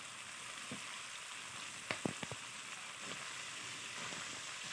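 Salted chicken frying in a pan, a low steady sizzle with a brief cluster of spoon scrapes and clinks partway through, quiet and close, no talking.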